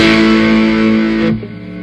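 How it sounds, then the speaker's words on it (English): A vintage Peavey Classic 30 guitar amplifier turned up loud gives off a sustained, buzzy hum with strong harmonic overtones, heard alone, then the upper buzz cuts off and a quieter hum remains. "Let's go ahead and crank it. Listen to that hum."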